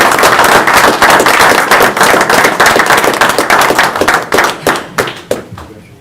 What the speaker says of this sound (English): These need your applause